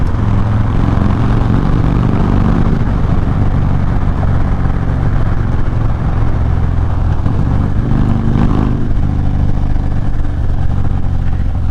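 Loud, steady engine roar of a motorcycle riding through heavy San Francisco traffic, with continuous rumbling and wind noise throughout.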